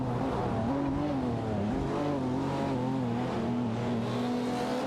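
Video game race cars, a Jaguar F-Type Project 7 and a Porsche 911 997 Turbo, engines droning at high revs with wavering pitch as they shift and jostle, loud and continuous with no voices.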